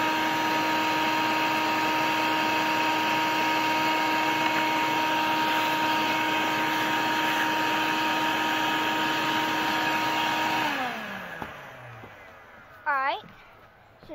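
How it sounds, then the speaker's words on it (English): A vacuum cleaner runs steadily close by while the base plate of a Bissell PowerForce Helix upright is vacuumed, a constant loud whine that winds down and cuts off near the end, followed by a brief squeaky rattle. "And if you want to, you can vacuum your plate a little bit."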